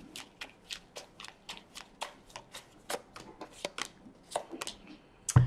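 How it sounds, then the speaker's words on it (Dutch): Tarot cards are shuffled by hand in a quick, steady run of crisp riffling snaps, close and clear, ending in a soft thump. "de kaarten schudden om te kijken wat deze week voor de vissen gaat brengen"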